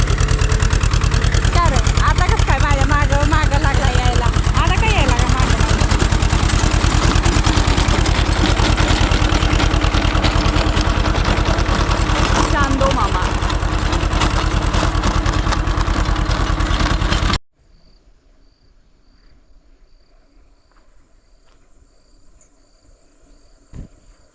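A tractor engine idles and chugs nearby at night under chirping crickets and overlapping voices, then cuts off abruptly, leaving near silence.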